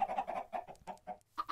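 Minecraft chickens cluck in a steady stream of short, close clucks that thin out near the end and then return with one last burst.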